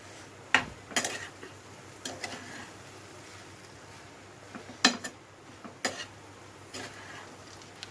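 A grated coconut mixture being stirred slowly in a pan over a medium flame, heard as scattered scrapes and taps of the spoon against the pan, some sharper than others, fairly quiet with no talk.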